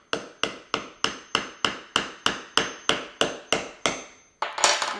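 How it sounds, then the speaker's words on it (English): A hammer strikes a coconut to punch a hole through its eye, giving about a dozen sharp, evenly spaced knocks close up, followed by a louder scraping burst at the end. "I'm gonna make sure this is stable and use a hammer"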